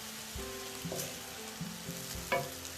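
Garlic vegetable fried rice being stirred in a pan, with a steady sizzle underneath and a few soft scraping strokes of the spoon against the metal, close and moderately loud, no voices.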